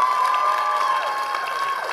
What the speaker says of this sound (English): let's just have one more round of applause.